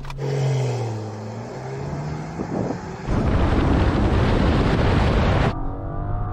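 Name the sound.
Rolls-Royce Dawn launch acceleration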